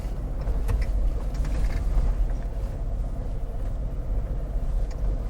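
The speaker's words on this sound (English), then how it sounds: "I like how quiet the hill descent control is" A Jeep Wrangler 4xe creeps downhill on hill descent control, a steady low rumble of tyres and drivetrain on an off-road slope, fairly quiet and even throughout with no voices.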